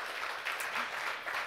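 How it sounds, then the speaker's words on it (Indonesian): A church congregation claps for Jesus during an online worship service, a steady wash of many hands applauding together at moderate loudness with no pause. "Yang mau tepuk tangan sekali lagi dong buat Yesus."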